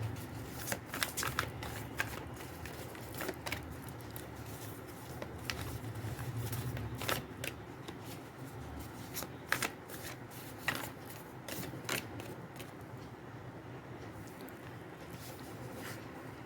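Tarot cards are shuffled and cut close by: repeated papery riffles and soft slaps and taps keep going steadily for about sixteen seconds, with no voices.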